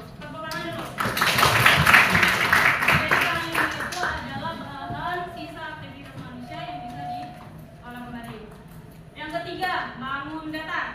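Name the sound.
classroom clapping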